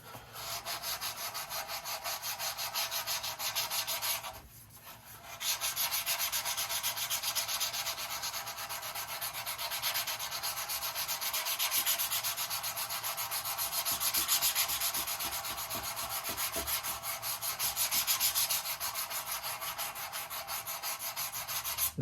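Hand sanding on the wood fuselage of a Carl Goldberg Tiger 2 model airplane, a close, steady scratchy rubbing that runs in long strokes, with a brief pause near the start before resuming.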